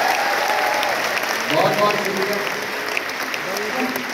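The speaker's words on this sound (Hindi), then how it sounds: "मैं चाहता हूँ इन सब के लिए एक जोरदार ताली होनी चाहिए।" An audience applauds performers at a team success event, a dense steady wash of clapping throughout while someone speaks over it, thanking them.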